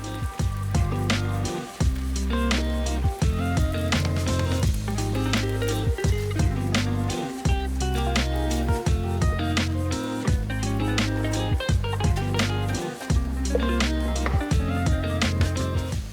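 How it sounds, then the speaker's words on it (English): Roti frying in vegetable oil in a pan, a continuous dense sizzle with fine crackling pops that stays loud and even throughout, with no talking. "I'm going to cook each side of the roti for about 30 seconds until it's lightly brown"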